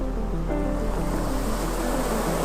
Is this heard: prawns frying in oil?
no